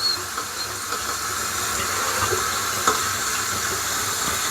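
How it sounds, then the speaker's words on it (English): Water runs steadily from a newly installed bathroom sink faucet, a continuous close hiss and splash that holds at an even level without talk. "once I turn my water on, there's water coming out"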